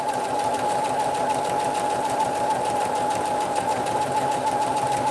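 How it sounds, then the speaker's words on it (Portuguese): Sewing machine stitching a cushion cover seam with backstitching, a steady close rapid mechanical hum and needle clatter running without pause. "vou virar e costurar o outro lado. Do mesmo jeito, com retrocesso."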